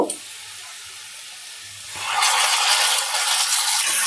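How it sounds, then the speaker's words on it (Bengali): Ginger, garlic and green chili paste frying with onions in a pan starts as a faint hiss, then swells halfway through into a loud, steady sizzle. "এখন এগুলোকেও ভেজে নেব এর কাঁচা সিনটা চলে যাওয়া পর্যন্ত"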